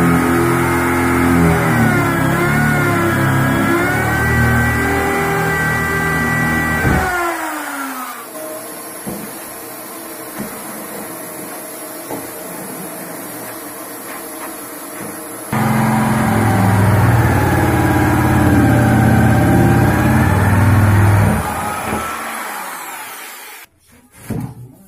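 A power drill bores holes through a kitchen countertop for a hob and sink cutout, giving a loud, steady motor whine in two long runs with a quiet pause between them and an abrupt stop at the end.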